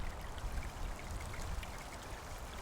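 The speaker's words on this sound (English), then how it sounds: "you hear the faint sound of running water" A faint trickling stream of running water flowing beneath a bridge, a soft, steady wash of noise continuing alone without pause.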